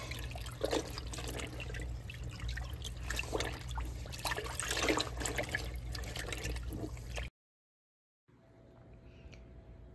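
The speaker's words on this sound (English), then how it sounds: "So rinse and change the water several times until the bleach is all rinsed out" Bleached shirts are rinsed in water, with sloshing, trickling and dripping sounds close by, continuing steadily before a brief silent gap and a fainter stretch of running water.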